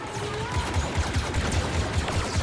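Rapid gunfire in Star Wars Battlefront II rattles out as a rhythmic string of repeated shots, moderately loud throughout the short burst.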